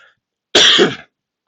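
A livestream host gives a single loud, harsh cough burst right at the microphone, lasting about half a second, surrounded by silence.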